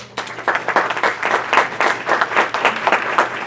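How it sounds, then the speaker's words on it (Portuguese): Audience applause at an animal protection forum in Minas Gerais, a steady burst of dense clapping from a crowd that carries on evenly for several seconds at moderate loudness. "Uma salva de palmas para elas."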